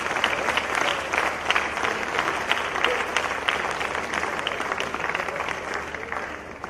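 An audience at a private school event in Madurai gives loud applause for a High Court judge, a thick, even roar of many clapping hands that holds steady from start to finish.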